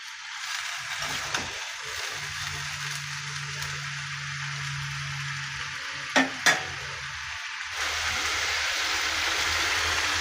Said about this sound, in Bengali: সাথে টমেটোটাও দিয়ে দিচ্ছি দিয়ে আবারও আমি নাড়াচাড়া করে দিচ্ছি